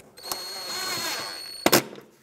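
A power driver snugs fender liner bolts on a 2012-2020 Ford Focus, running in a steady whir for over a second before ending in a sharp burst of clicks and clunks.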